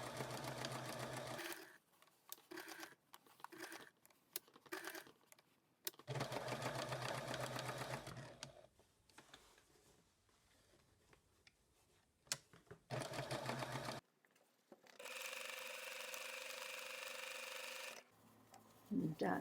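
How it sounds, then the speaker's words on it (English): Sewing machine running a straight stitch around white lining fabric for a machine-knit robot puppet, several loud, close bursts of fast whirring stitching separated by short pauses, with a little quiet speech between them. "And sew around it with a straight stitch on the machine."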